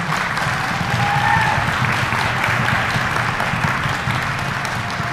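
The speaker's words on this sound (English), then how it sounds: "Another round of applause for our high school honors orchestra." Steady, full applause from a concert audience for a high school honors orchestra, dense clapping sustained evenly for several seconds at close range, with no voices standing out.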